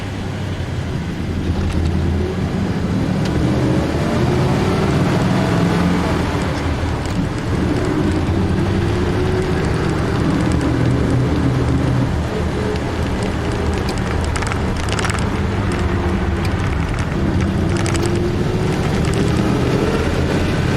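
A 1965 Chevy panel van accelerating along a causeway gives a steady engine drone with low rumbling road and wind noise, continuous and loud throughout with no talk.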